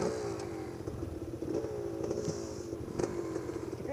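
Yamaha YBR250 single-cylinder motorcycle engine held under throttle off road, a steady mid-pitched drone with rising whine and rattly clatter, moderately close and continuous.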